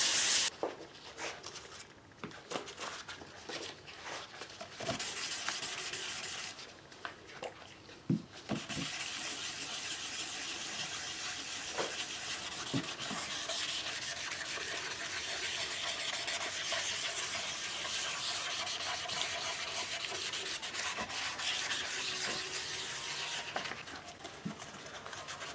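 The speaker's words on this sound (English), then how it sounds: "I'll just keep sanding, and once I've sanded through all of the grits, then I'll start buffing" Continuous hand sanding of a nitrocellulose lacquer finish on a soprano ukulele, a steady close rubbing hiss with a few brief knocks and pauses near the start.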